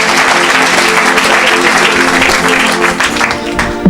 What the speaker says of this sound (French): Acclamez pour cela.